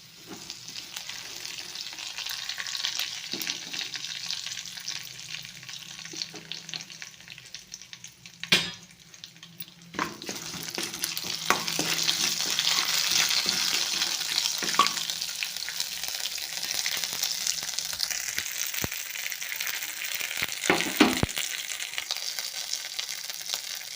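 Mustard seeds, cumin and curry leaves in hot oil give a soft, crackly sizzle. It swells noticeably about halfway through, with scattered pops and stirring clatter.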